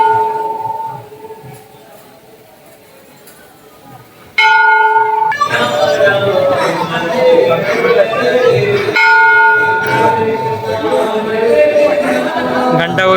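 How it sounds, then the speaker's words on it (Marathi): A metal temple bell rings at an ISKCON temple, a clear bright tone struck a few times before loud, echoing interior crowd noise and chatter take over, with the bell ringing out again amid the commotion. "घंटा वगैरे तुम्ही इच्छेने वाजू शकता."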